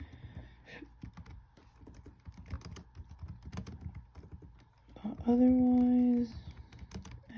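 Typing on a computer keyboard gives a soft, scattered patter of key clicks under quiet talk, then a short electronic tone sounds near the end.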